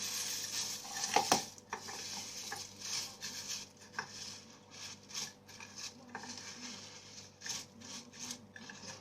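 Cornflakes being stirred through melted chocolate in a pan, giving a steady dry scraping and rustling with light clinks of a utensil against the pan, close and continuous with no voices.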